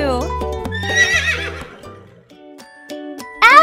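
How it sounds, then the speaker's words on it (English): A horse neighs in a children's Sesame Street program, a short bright whinny with shaky pitched harmonics heard up close, followed by a few tonal cartoon sound effects. "we have Henry the horse!"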